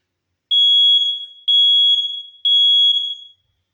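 A First Alert SA303 smoke alarm being tested indoors in a bedroom, sounding three loud, piercing beeps of about a second each in a steady, evenly spaced pattern, with silence between and no voices.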